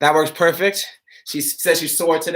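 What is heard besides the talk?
No everyday noise stands out behind the speech.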